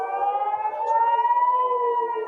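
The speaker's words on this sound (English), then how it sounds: "sirens are going off" An air raid siren wailing steadily in the open, a loud sustained tone that rises slowly in pitch with no voices over it.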